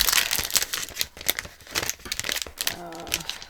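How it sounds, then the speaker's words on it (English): Plastic shopping bags being handled, with sharp irregular crinkles and rustles up close. A brief voiced sound comes near the end. "I hate these plastic bags"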